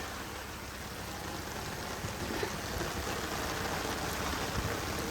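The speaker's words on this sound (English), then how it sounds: "It's coming down so hard that the rain is actually seeping through the umbrella" Heavy rain drumming hard on an umbrella, a dense steady hiss of drops close overhead that swells slightly partway through, with no talking.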